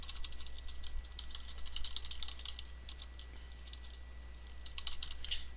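Someone types on a computer keyboard while logging in with a password and email address. The key clicks come quick and fairly steady, soft and close, over a constant low electrical hum, and nobody speaks.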